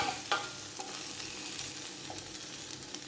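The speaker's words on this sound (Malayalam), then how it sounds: "നമ്മളോ ഇടയ്ക്കിടയ്ക്ക് ഇളക്കിയിട്ട് കൊടുക്കണം" Okra frying in a very hot pan, stirred now and then, gives a steady sizzle with a few brief scraping stir strokes over it, close and fairly quiet.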